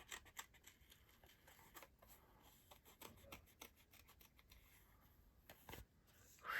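Steady snipping and rubbing of scissors cutting paper, close and quiet, in repeated short strokes with brief pauses and no talking.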